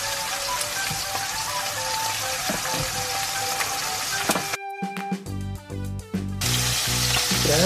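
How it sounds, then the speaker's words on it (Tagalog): Steady crackling sizzle of beef frying in a hot pan, loud and close, briefly interrupted by a few clattering stirs before the sizzle returns. "habang nagpiprito tayo ng karne, lutuin na natin yung ating potato"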